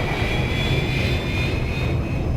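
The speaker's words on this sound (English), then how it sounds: "There you could hear the sort of Eagle from Space 1999 engine sound." A spaceship engine in the game Elite: Dangerous gives a steady, loud jet-like roar with a thin high whine on top, holding evenly throughout and with no voices.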